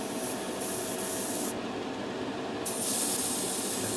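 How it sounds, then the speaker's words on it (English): An airbrush fed by a compressor gives a steady broadband hiss throughout, with a brief change in the spray partway through. It is used for a quick test blast before painting a model kit canopy. "Just do a quick test blast through to make sure it's coming through."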